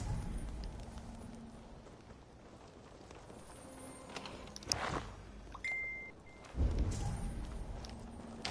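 Faint horse hooves clip-clop at a walking pace in a PS4 video game, quiet and low under soft ambient game sounds, with a couple of brief interface blips.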